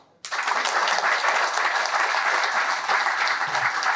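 An audience at a talk bursts into applause after a moment of silence, dense and sustained clapping from many hands that stays at an even, loud level.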